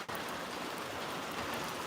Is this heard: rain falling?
yes